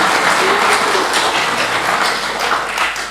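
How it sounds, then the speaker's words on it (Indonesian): Warm applause from a congregation at a closing Mass, honoring a friar, steady dense clapping that stays loud throughout. "Kita kasih aplaus dulu untuk frater"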